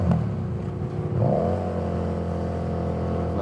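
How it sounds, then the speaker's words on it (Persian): A motorcycle engine in Hawaii hums steadily while riding, sounding strange, with a brief rise in revs, a continuous mid-pitched drone heard up close without talk. "ولی صدای موتور عجیبه، خیلی هم عجیبه."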